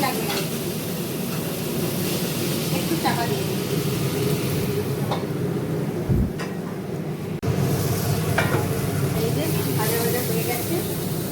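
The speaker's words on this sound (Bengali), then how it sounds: "তারপর পেঁয়াজ কুচি দিয়ে ভাজার করে লাল করে চিকেনটা দিয়ে দিয়েছি" Chicken fries with browned chopped onions and garlic in a home kitchen, a steady hiss of sizzling under a voice talking, with a brief dip and a soft thump partway through.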